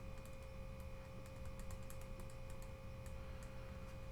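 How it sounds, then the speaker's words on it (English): Quiet, irregular clicks of typing on an iPhone 7 Plus keyboard inside a Merit waterproof case tap away over a steady electronic hum, with no voices. "typing on here really doesn't sound, doesn't feel that bad"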